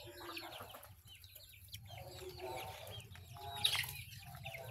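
Backyard chickens cluck and murmur softly nearby among faint rustling and scattered bird calls, with a brief louder squawk near the end.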